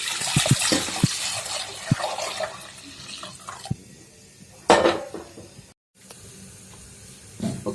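Milk poured into a kadai on the stove while making sheer khurma: a close liquid splash and trickle mixed with clinks and knocks of the metal pan, briefly dropping out near the end, with no talking.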